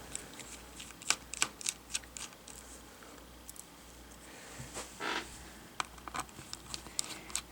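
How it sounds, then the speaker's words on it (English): Four screws come out of an Acer Chromebook 11 C740 screen hinge, producing faint, sparse ticks and small metallic clicks close by over a quiet background, with one brief scraping rustle midway. "So remove the 4 screws."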